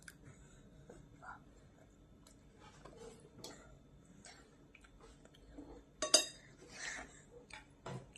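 A child scoops food with a spoon from a dish, giving faint scattered clinks and scrapes of metal on tableware. One sharper clatter lands near the end, and faint chewing sounds come in between.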